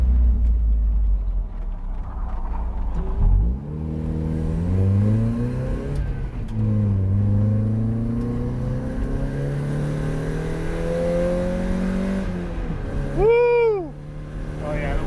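A Mazda Miata on a race track revs hard through the gears, the engine note climbing, dropping at shifts and climbing again in long sweeps, heard loud from inside the car, with a brief whine of tires near the end.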